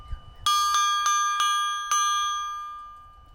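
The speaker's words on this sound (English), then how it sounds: "I get to sign the bell, which is made from an old scuba tank." A bell made from an old scuba tank is struck five times in an uneven sequence, each clear metallic ring sustaining and overlapping the next, loud and close, with faint background noise before the first strike.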